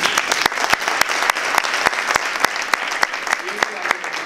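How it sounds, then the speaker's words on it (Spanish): Applause at a conference talk, with crisp, regular handclaps standing out sharply over a softer bed of crowd clapping, steady and close for several seconds. "pues un aplauso también"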